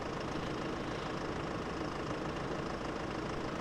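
A Lamborghini Nitro 120 tractor idling in Farming Simulator 15, a steady, even engine drone with a dense broadband hum that holds unchanged from start to finish.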